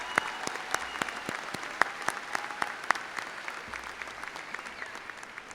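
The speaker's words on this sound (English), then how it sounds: "Let's give our seniors a big round of applause." An audience at a 2018 high school graduation applauds its seniors, fairly sparse individual claps standing out over a soft crowd bed, moderately distant.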